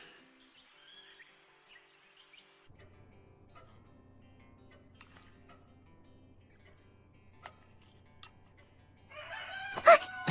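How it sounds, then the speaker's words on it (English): Out in the countryside, a rooster crows near the end after a long stretch of near-silence broken by faint distant bird calls and a low background hum. "That's a rooster."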